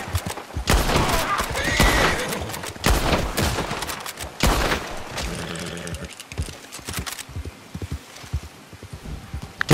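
Sharp volleys of gunfire crack in bursts within Red Dead, mixed with hoofbeats and horse sounds; the shots come clustered early, then thin to scattered cracks.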